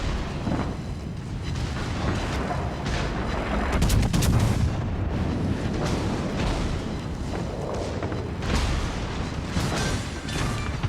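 The Bismarck battleship's guns fire in World of Warships: Legends as a dense run of loud booming salvos and explosions that rumble on throughout, with no talking.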